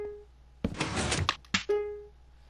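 Minecraft sticky piston firing in-game: a short tonal blip, then a loud mechanical extending burst, a clunk, and a second quick retracting snap followed by a fading tone.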